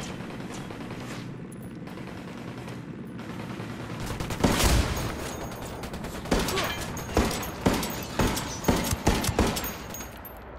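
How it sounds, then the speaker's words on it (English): Suppressive gunfire in the Ghost Recon video game: a muffled lull, then a heavy blast followed by repeated close bursts of automatic rifle fire in an uneven rhythm. "Suppressive fire!"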